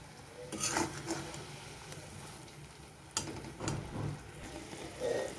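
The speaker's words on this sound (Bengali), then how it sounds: "আমি অনবরত নেড়ে চেড়ে নিচ্ছি যাতে গুড়টা পোড়া না লেগে যায়" Mango pieces stirred in jaggery in a cooking pan, with a spoon scraping and swishing in a few quiet, intermittent strokes and no talk.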